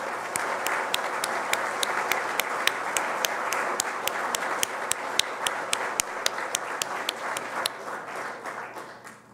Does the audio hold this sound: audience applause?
yes